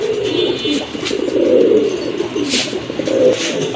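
A pair of uncommon exhibition-type fancy pigeons at a pigeon sale coo in repeated low, throaty rolls, close and fairly loud, with a faint higher chirp or two in the background.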